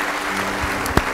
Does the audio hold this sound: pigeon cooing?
no